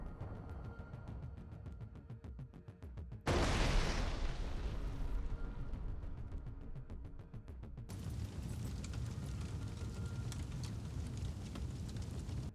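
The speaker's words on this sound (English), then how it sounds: "The Russian artillery opened successive fire on this position in the forest belt and destroyed it." Russian artillery fire striking a Ukrainian position in a forest belt: a loud broadband blast erupts partway through over steady rumbling field noise, its roar slowly fading, then a second surge of wide noise continues to the end.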